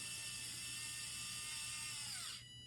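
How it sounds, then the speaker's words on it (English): A mini electric screwdriver drives a screw with a steady high-pitched motor whine, then spins down abruptly near the end as its torque limit stops it, heard close and alone. "you can see it hits that torque safety and stops spinning before it ruins and strips the screw"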